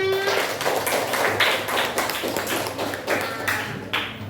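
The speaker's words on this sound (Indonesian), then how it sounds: "Coba tepuk tangan untuk kita semuanya." A classroom of children claps their hands together in a rhythmic series of sharp, loud bursts, closely miked and repeating at a steady beat.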